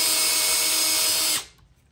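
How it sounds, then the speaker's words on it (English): Power driver spinning out a T25 ECU bolt on a BMW M1000RR motorcycle, a steady high whine for over a second that stops abruptly, close and loud. "First thing we're gonna do is remove the bolt right here,"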